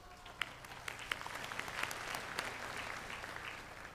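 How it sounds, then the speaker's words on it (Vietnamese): Audience applause at a Vietnamese music and poetry performance of a song, a steady wash of clapping from a crowd with a few sharper claps standing out, sustained for the whole stretch at moderate distance, no voices over it. "Làm ơn cho nàng một tràng pháo tay đi."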